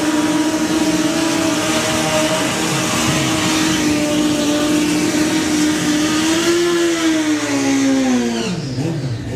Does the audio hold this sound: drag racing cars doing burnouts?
yes